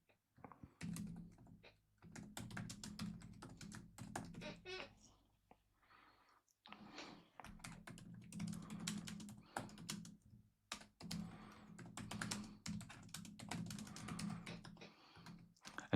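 Computer keyboard typing in quick bursts of clicky keystrokes, close and clear, broken by a short pause and occasional soft speech.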